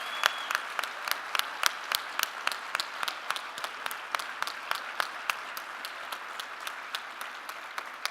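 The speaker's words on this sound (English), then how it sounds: "Let us all give these people a great round of applause." Steady applause from a crowd, many hands clapping continuously with sharp individual claps standing out, sustained at an even level throughout.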